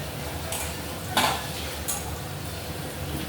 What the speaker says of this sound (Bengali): কাঁচা লঙ্কাটা জলে ভালো করে ধুয়ে কাঁচা লঙ্কাটা দিয়ে দিচ্ছি।